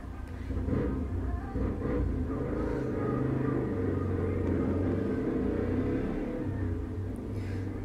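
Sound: loud car passing outside

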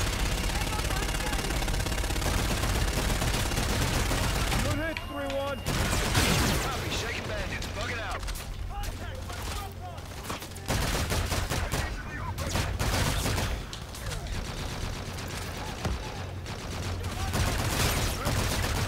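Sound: called-in fire strike in the video game Call of Duty: Infinite Warfare

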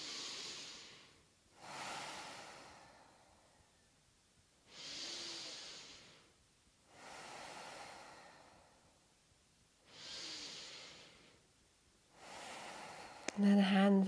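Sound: deep breathing during yoga

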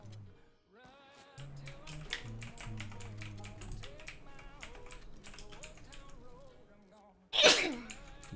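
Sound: sneeze

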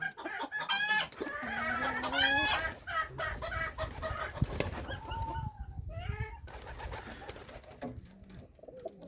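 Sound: chickens clucking

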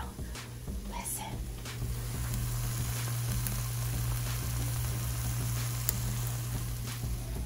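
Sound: egg and tortilla sizzling in pan

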